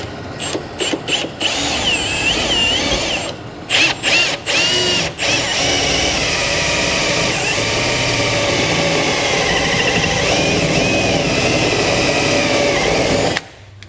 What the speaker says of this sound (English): I'm gonna drill an opening just large enough to get our drain tube through there